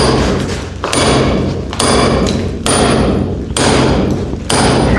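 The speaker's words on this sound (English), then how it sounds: "Let's try a pokey chisel." A Bosch PBH 2000 RE 240 volt SDS hammer drill chiselling with a pointed chisel, giving loud, continuous rapid hammering broken by about five brief pauses as the bit is repositioned.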